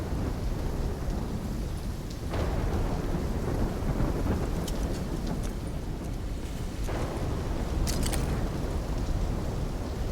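Thunderstorm in the video game Call of Duty Black Ops 3, with loud continuous rumbling thunder and rain that swell in two long waves over a steady stormy roar, with no voices.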